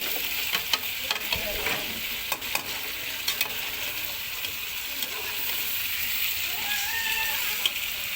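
Chicken karahi stir-fried in a pan gives a steady, close sizzle with irregular scraping and clacking stirring strokes. A few sharper knocks stand out. No one speaks.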